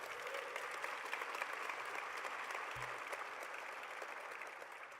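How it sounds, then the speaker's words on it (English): A steady wash of audience applause at a White House celebration of Asian American and Native Hawaiian and Pacific Islander heritage, fairly quiet and distant, sustained evenly for the whole stretch without voices standing out. "Give them a big round of applause."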